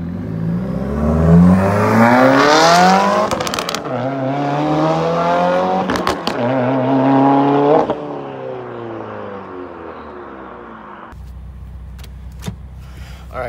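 A 2015 Subaru WRX, Stage 2 tune, with a straight-piped exhaust, revs loudly and pulls away, the engine note climbing and falling through several gear changes before dropping to a low idle rumble near the end.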